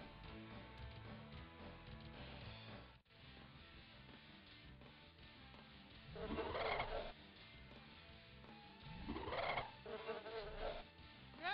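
Bee enemies in the Power Rangers Lightspeed Rescue game on N64: buzzing insect drones under looping game music, swelling loud twice as swarms pass close.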